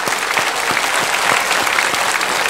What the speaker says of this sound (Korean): 박수로 축하해 줍시다.